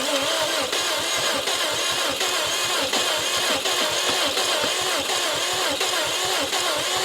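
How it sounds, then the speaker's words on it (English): Subaru STI drag car engine cranking and turning over with a rapid, steady rhythmic pulse, loud and close, continuing for about seven seconds without catching. "Once we fire it up and get some heat in the engine, maybe it'll unfreeze it."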